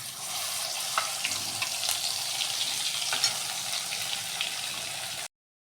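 Cumin and turmeric hitting hot oil in a pot for misal, a strong steady sizzle with light crackles and occasional stirring scrapes, close up, ending abruptly in silence.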